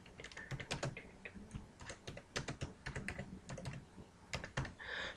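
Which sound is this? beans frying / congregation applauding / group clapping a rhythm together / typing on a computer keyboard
typing on a computer keyboard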